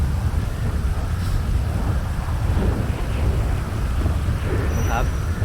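Steady heavy rain with rumbling thunder in the GTA video game, a loud dense wash filling the whole stretch, with faint voices murmuring underneath.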